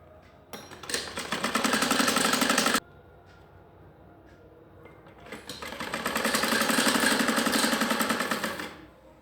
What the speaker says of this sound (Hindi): एक पैर के दबा से सिलाई लगाएंगे